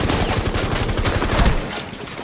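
Rapid automatic gunfire from the tactical shooter game Rainbow Six Siege, a dense burst of evenly spaced shots lasting about a second and a half, loud and close, then tailing off.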